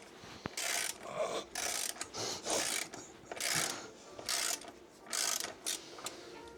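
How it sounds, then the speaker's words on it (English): Large wrench ratcheting and scraping while loosening a bolt on the brake caliper of a Kawasaki Z650 motorcycle: a series of rhythmic clicking, grinding bursts, close and moderately loud, with no talking. "So we're back with a bigger wrench."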